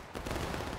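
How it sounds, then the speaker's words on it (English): Rifle volley fire in the Civil War video game War of Rights, a dense crackling burst of many muskets going off together, loud and close, filling the whole short moment with no talking. "that volley from the 56 has sent the 88th tumbling down the hill"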